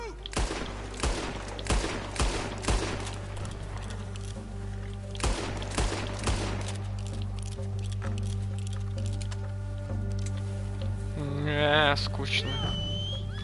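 Rapid gunfire from a hunting encounter in the video game Red Dead Redemption 2, a burst of sharp shots at the start and more around five to six seconds, over a steady game ambience with voices talking.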